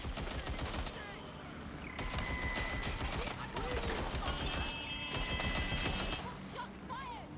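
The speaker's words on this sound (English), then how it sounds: "Shots fired!" Rapid bursts of automatic gunfire and single shots ring out in a Watch Dogs Legion firefight, loud and dense across the scene, mixed with game effects and shouted voices.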